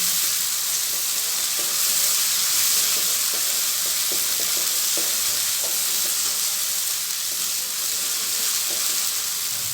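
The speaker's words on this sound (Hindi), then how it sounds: "इसमें हम ऐड कर देंगे इस स्टेज पर 1 टेबलस्पून लहसुन अदरक का पेस्ट, और इसको थोड़ा सा फ्राई करेंगे 1 मिनट के लिए" Steady, loud sizzling of ginger-garlic paste and onions frying in hot oil, with faint stirring scrapes, continuous throughout and without talk.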